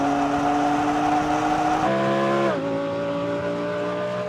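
A BMW M3 and an Audi R8 GT drag racing, heard as a loud, steady engine roar with a sharp drop in pitch as a gear changes partway through, then the engine keeps pulling hard.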